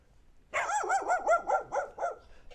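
A dog barks in a rapid series of about seven to eight close, loud, rough barks that start abruptly after a quiet half-second, set outdoors on a walk in Minsk.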